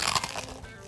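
Crispy smoked chicharrones bitten close up, giving a loud, sharp crunch followed by a few brittle crackling chews in quick succession.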